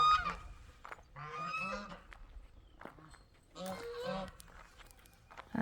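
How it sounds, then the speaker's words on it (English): Geese on a farm give loud, nasal honks in two clustered bursts with short gaps between them, mixed with footsteps on the ground close by. "The geese I think they're heading home."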